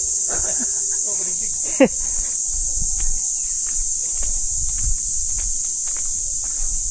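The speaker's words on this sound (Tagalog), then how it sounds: "ang ganda ng tunog ng ano, kuliglig" Crickets at a farm campsite keep up a continuous high, shrill chirring, steady and moderately loud, while a voice speaks briefly near the start and footsteps shuffle beneath.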